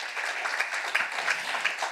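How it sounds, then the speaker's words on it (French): An audience applauds at a business and tech event recapping VivaTech 2024: a steady, dense wash of many hands clapping together, filling the room for the whole two seconds. "je crois qu'on peut applaudir très fort"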